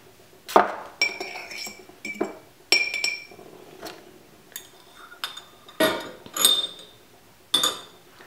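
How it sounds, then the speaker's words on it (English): Roasted garlic paste is scooped into a glass mason jar: a spoon clinks sharply against the glass about eight times in an irregular rhythm, close and clear with quiet pauses between the taps. "grab your mason jar or whatever you're going to be making your dressing in and scoop the roasted garlic in"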